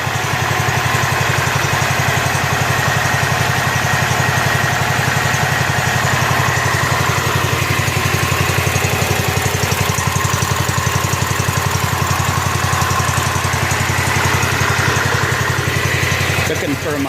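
A rebuilt Kohler K241 engine on a John Deere 210 lawn tractor runs steadily at close range, a loud continuous throbbing drone that stays even throughout.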